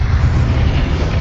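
Incendio fire spell cast in Hogwarts Legacy, a loud, dense roaring whoosh of flame with heavy low rumble, sustained and steady for its whole short length.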